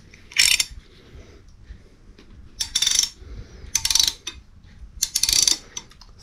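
A 27 mm ratchet wrench in a workshop gives bursts of rapid, crisp clicking, four short runs separated by brief pauses, close and fairly loud against a quiet background.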